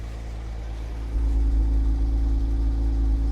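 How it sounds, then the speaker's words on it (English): A Jaguar XK six-cylinder engine, salvaged from a barn-fire car, idles with a deep steady hum and then steps up to a louder, fuller rev that holds for the rest of the moment. "So a very nice running XK engine."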